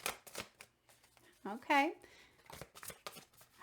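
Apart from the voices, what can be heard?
shuffling tarot cards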